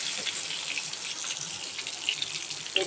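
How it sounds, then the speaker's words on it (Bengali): Water from a kitchen tap runs steadily into a sink while dishes are washed, with small scattered clinks of utensils and plates over the continuous splashing stream. "এই এতটা বাসন ধুয়ে নিলাম"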